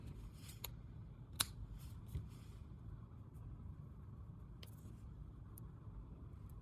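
Scissors snip crochet thread in a few faint, crisp clicks close by, set against a steady low rumble of background traffic.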